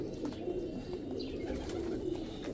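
A Teddy pigeon coos in low, soft, continuous murmurs, close and steady throughout with no voices over it.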